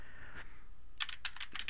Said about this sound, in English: you will type in a web address in this location here to our website